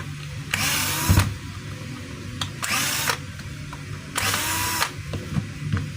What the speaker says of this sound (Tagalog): So gumagana naman siya. Ang problema, wala siyang hammer. Puro siya drill mga kabay.